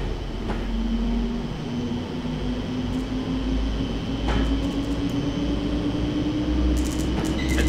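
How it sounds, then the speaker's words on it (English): A London Midland passenger train in Train Simulator 2018 runs through a wintry Trent Valley near Tamworth, giving a steady, close rumble of wheels on rails with a sustained hum and occasional faint clanks, heard alone without talk. "That train's going again."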